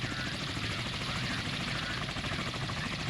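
Attack helicopters approaching in the naval game Sea Power, a steady dense rotor and engine drone, loud and unbroken throughout.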